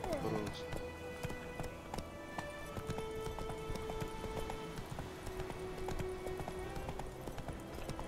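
Roach the horse gallops in The Witcher 3, with a rapid rhythmic clip-clop of hooves running steadily throughout and game music tones playing over it. Someone talks over the hoofbeats.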